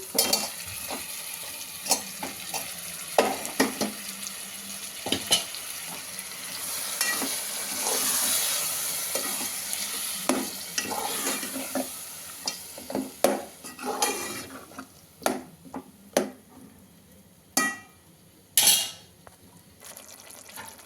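Soaked brinjals fry in oil in a pan for pulao, a steady sizzle broken by repeated scrapes and clacks of a spoon stirring against the metal, with sharper knocks toward the end and no talking.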